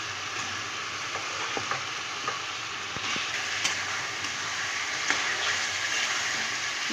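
Meat frying in a pan with onion, ginger, garlic and tomato, a continuous close sizzle broken by repeated light taps and scrapes of a spatula stirring at irregular intervals.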